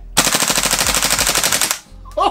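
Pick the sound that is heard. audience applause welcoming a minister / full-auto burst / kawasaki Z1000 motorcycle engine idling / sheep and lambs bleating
full-auto burst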